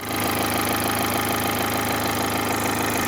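A 2014 Dacia Sandero Stepway 1.5 dCi diesel engine runs steadily just after a timing belt change, a loud, close idle with an even knocking clatter and no talking.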